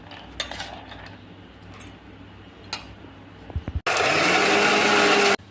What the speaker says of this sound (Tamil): ஊற வச்ச கடலைப்பருப்பு எடுத்து மிக்சியில் போட்டு கொஞ்சமாக அரைச்சிக்கலாம்.